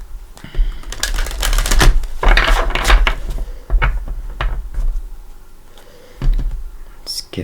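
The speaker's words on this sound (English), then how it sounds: "I do like to shuffle it" Tarot cards shuffled by hand during a reading, giving bursts of papery riffling and flicking that come and go in short rushes, close and fairly loud, with soft pauses between shuffles.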